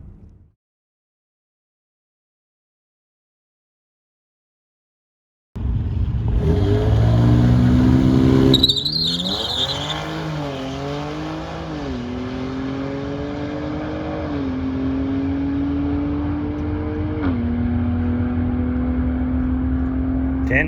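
A BMW X3M Competition launches down a drag strip after a silent pause, its engine roaring up in pitch through several gear shifts, loud and close, then holding a strong steady drone to the end of the run.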